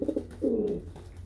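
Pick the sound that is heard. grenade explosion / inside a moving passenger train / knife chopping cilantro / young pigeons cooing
young pigeons cooing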